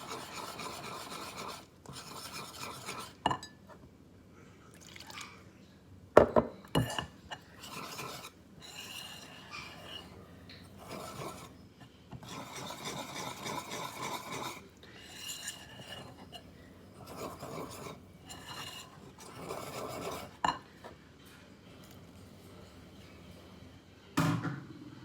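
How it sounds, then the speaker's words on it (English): Popover batter being whisked by hand in a bowl: quiet, rapid rasping whisk strokes in repeated bursts separated by short pauses, with occasional sharper taps against the bowl. "And mix that in slowly, a little at a time. I use a whisk."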